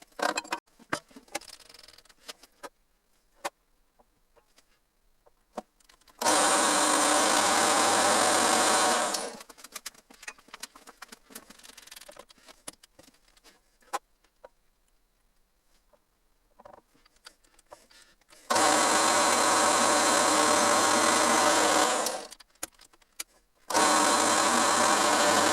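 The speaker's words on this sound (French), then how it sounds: "le perçage de l'axe est réalisé" A power drill bores through the axle of a Makita vacuum cleaner in three loud, steady runs of several seconds each, separated by quieter handling clicks and scraping.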